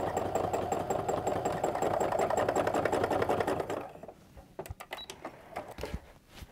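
A sewing machine runs fast during free motion quilting with a bobbin fault, a steady rapid whir for several seconds, then stopping into scattered clicks and handling knocks.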